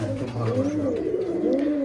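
Giribaz pigeons kept inside a closed room loft coo steadily and close by, with overlapping throaty calls rolling on without a break and no talk.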